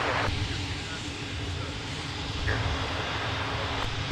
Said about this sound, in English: Yep, they have already begun their takeoff.